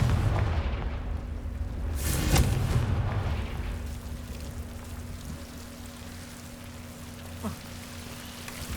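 A Confringo fire-blast spell from the Hogwarts Legacy video game bursts at close range, one broad booming blast around the middle, then a rumbling low hum and a faint crackle as it fades.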